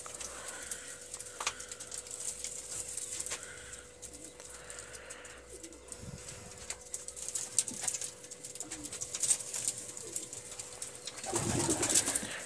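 Pakistani pigeons, including Saharanpuri and Kalshira breeds, cooing softly and repeatedly at close range over a quiet background with scattered faint clicks, no talking.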